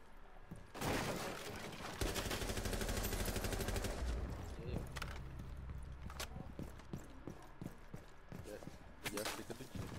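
Rapid bursts of video game gunfire, loud and sustained for a few seconds, then sparser single shots and clatter, with occasional talking mixed in.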